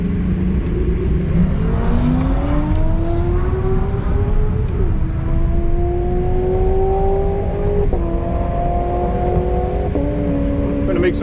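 A stage 2.5 modified 945 hp McLaren 720S and a stock Tesla Model S Plaid in a roll race: a loud engine drones and rises in pitch as it accelerates through several gear shifts, with steady road and wind noise underneath.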